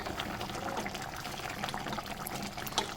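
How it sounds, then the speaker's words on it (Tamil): Chicken gravy boils in a pan with a soft, continuous bubbling and gentle simmer, faint and steady throughout. "பாருங்கள், நல்லா கொதிச்சுட்ருக்கேன்."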